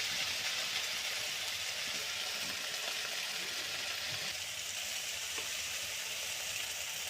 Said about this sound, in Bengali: দেখো কড়াইতে দিয়ে দিলাম বীজগুলো। এখন এর মধ্যে লবণ, অল্প হলুদ দিয়ে দেবো